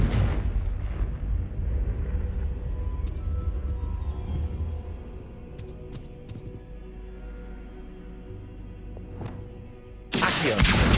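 A Confringo blasting spell goes off in Hogwarts Legacy, a loud sustained explosive roar with deep rumbling that slowly fades over about ten seconds, followed by a sharp burst of noise near the end.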